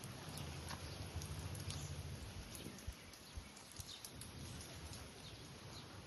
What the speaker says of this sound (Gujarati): જો અને ઝીણા ઝીણા વરસાદ પણ ચાલી રહ્યો